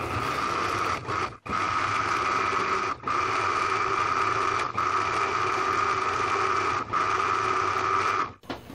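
A mixer grinder blends green grapes with sugar, black salt and water in its jar. A steady, loud, close motor whir runs throughout, broken by several brief dips where it cuts out and restarts.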